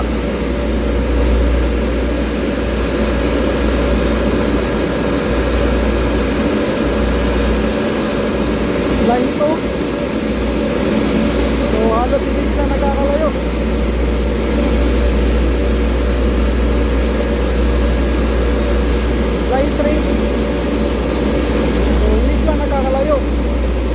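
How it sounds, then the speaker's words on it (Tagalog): A boiler's electric motor runs steadily on a star-delta connection at low current. It gives a constant low hum with a strong low-frequency drone and faint tonal whine, and occasional distant voices sit underneath. "umaandar na ng 1 oras yung motor namin na hindi na siya namamatay"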